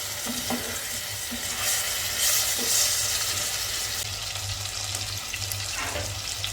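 Chicken pieces fry in a pan over a medium flame, giving a steady, moderate sizzle with a few soft stirring or scraping touches, close by and with no talking.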